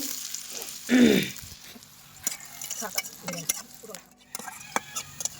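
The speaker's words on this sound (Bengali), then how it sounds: "তেলের মধ্যে দিয়ে দিচ্ছি শুকনা মরিচ। এই দেখুন শুকনা মরিচটা সুন্দর করে ভেজে নিচ্ছি।" Dried red chillies with whole cumin, garlic and chopped onion fry in hot oil, giving a soft sizzle with a brief louder burst of stirring near the start and scattered scrapes and clinks of a spatula afterward.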